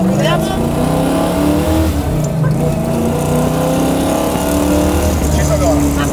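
A car with about 300 horsepower pulls hard through the gears on a public road, its engine note steady and loud throughout with rising harmonics, while people talk over it.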